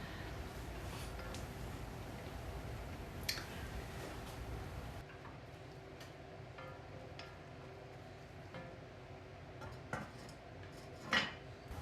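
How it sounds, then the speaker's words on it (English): A wooden or metal spoon stirs braised kale with a spoonful or two of rolled oats in a cooking pot, giving a few faint, sparse clinks and scrapes over a low steady background hiss. "maybe a tablespoon or two of the rolled oats and stir it up, and then keep on occasionally stirring it every so often."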